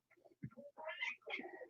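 A pet cat meows several times in quick succession, close and clear, with short chirpy calls rising into longer drawn-out meows in a quiet room.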